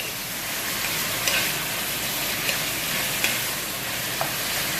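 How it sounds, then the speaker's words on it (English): Meat browning over high heat in a cast iron pan for raccoon stew, a steady broadband sizzle and crackle filling the whole clip with a few small pops, close and continuous with no talking. "We're going to brown this in high heat."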